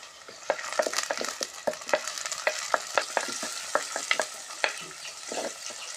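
Curry leaves crackle and sizzle in hot oil while a spoon stirs them, with green chillies already in the pan, as part of a mutton bone sherwa. Close, steady frying with a run of sharp scraping strokes and no talking.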